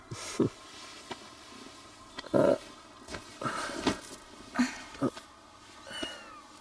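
A cat gives several short meows and yowls in an indoor scene from an emotional Indian film, scattered over about six seconds, moderately loud and close.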